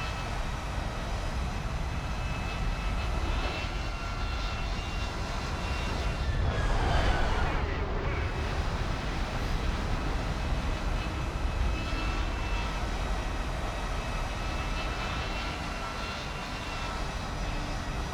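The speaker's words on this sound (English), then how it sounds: "I would say I hear a plane, but I don't think he's near me" An aircraft engine in the combat flight game War Thunder drones steadily, swelling briefly louder midway before settling back to an even hum; no talk.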